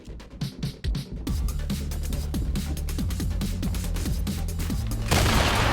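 Rapid gunfire from a pistol and an assault rifle in Fortnite, sharp repeated shots in quick bursts, with a denser roaring burst near the end.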